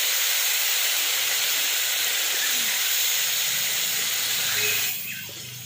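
A loud, steady hiss sizzles as a little water hits a hot pan of paneer and potol masala, holding for several seconds before dying down quickly near the end.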